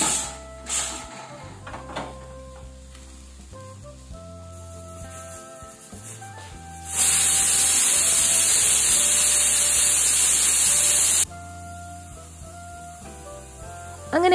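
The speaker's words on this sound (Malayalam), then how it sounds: "ഇതാ കുക്കർ വിസ്റ്റടിച്ച് വന്നിട്ടുണ്ടായിരുന്നു കേട്ടോ" A kitchen pressure cooker lets off a loud, steady blast of hissing steam for about four seconds, standing out above quieter clatter and background household sounds.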